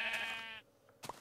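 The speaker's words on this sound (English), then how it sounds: "There's sheep everywhere." A sheep in Minecraft gives a single loud, close bleat, followed by a brief, fainter bleat after a pause.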